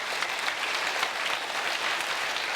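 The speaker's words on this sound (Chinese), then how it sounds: "互咱大家拍掌欢迎。" A church congregation at a Taiwanese-language Christmas praise service claps in welcome, a steady dense wash of applause from many hands with no break.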